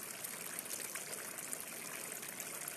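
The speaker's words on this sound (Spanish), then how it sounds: "Qué rico poder percibir el sonido del agua." Flowing water streams steadily and close by, a continuous trickling rush with no voices over it.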